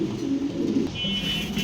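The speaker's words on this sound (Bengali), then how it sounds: "মাশাআল্লাহ দর্শক, ভিডিও স্ক্রিনে এক পিস কবুতর দেখতে পাচ্ছি।" A white pigeon cooing close by in low, rolling murmurs, with faint background noise and no talking.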